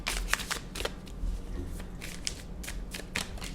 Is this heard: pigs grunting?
no